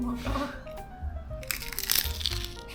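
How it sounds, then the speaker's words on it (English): A fried corn tortilla garnache topped with refried beans, slaw and onion being bitten, giving a few close, crisp crunches and cracks while a person talks over them. "the crunch of the tortilla is so satisfying and so tasty"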